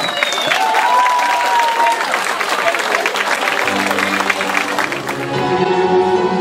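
Applause rises from the audience at an autumn festival show in Cologne, a dense, steady clatter of clapping that fills the whole stretch, with cheering and voices over it and tonal music coming in toward the end.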